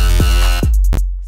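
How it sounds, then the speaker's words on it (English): Growl laser synth patch built in Massive for trap or dubstep, a loud held note with repeated downward laser-like pitch sweeps and a gritty growling buzz, alone and up close. "So a Growl laser, I just made this right now"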